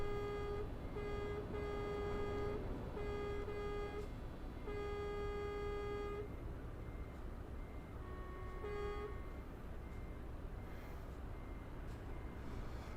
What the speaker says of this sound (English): you got air horns and normal horns